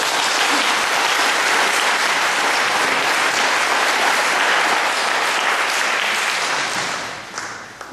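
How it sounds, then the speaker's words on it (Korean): Sustained, loud audience applause at an international symposium on the 130th anniversary of Korean missions, welcoming a professor of Methodist Theological University, steady for about seven seconds before fading out near the end. "박수를 쳐주십시오."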